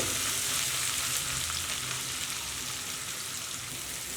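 Onions fry in a pot of hot oil that was used earlier for frying chicken, making a loud, dense, steady sizzle that continues without pause.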